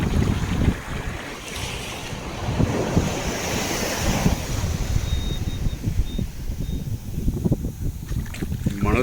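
Ocean surf rolls and washes continuously up the shore, loud and close, with gusty wind buffeting the microphone.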